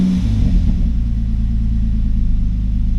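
Steady low engine rumble from a 2003 Nissan Pathfinder after a mass air flow sensor repair, holding a loud, even drone close by with a slight rise in revs at the start.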